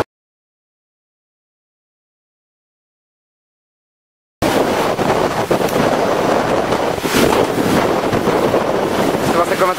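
Hurricane Charley's wind roars and buffets a microphone, loud continuous gusting noise that starts abruptly after several seconds of silence and stays dense and turbulent throughout, with a possible faint voice beneath.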